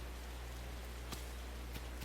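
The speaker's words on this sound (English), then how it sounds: "And now it's raining." Rain in the video game Hot Shots Golf World Invitational falls as a soft, steady hiss of droplets over a low hum, with a few faint louder taps.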